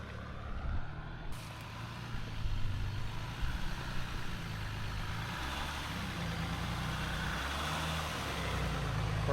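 Steady low rumble of an off-road overland truck's engine under easy throttle at a trail park, droning evenly at moderate distance for the whole stretch with no voices.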